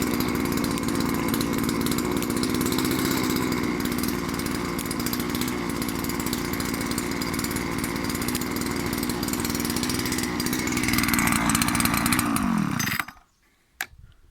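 A Sparta 25 petrol engine, troubled by its first breakdown, runs at a steady high buzz for about thirteen seconds, loud and close, then cuts off abruptly into near silence.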